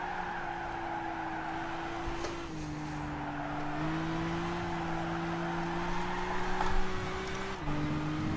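A race car in Gran Turismo holds a steady, droning engine note at high revs, stepping up through gear changes as it keeps accelerating, loud and continuous with faint tire noise and no talk.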